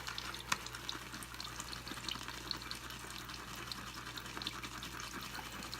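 Wet shaving brush working CBL soap in a bowl with a little added water, a steady soft squelching, swishing churn of lather, close and continuous with no talk.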